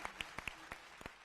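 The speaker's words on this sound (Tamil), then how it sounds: "ஒரு பெரிய கைத்தட்டல் உங்களுக்கு." A few faint, scattered hand claps from an audience after a singing performance on a televised music show, eight or so sharp separate claps spread unevenly over a second.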